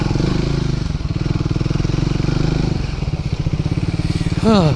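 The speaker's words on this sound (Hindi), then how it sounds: "चलो आ जाओ, बाइक खड़ी करते हैं।" A motorcycle idles close by with a steady rapid engine putter while being brought in to park, and a short rising rev or horn-like tone sounds at the end.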